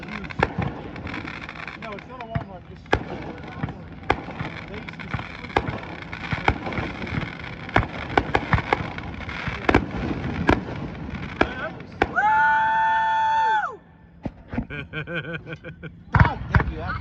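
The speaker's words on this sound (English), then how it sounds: "the guys across the little lake bay right here is dropping some sweet fireworks" Fireworks set off across a small lake bay pop and crackle in repeated sharp bursts, moderately distant, while people talk nearby and a vehicle horn-like tone briefly sounds.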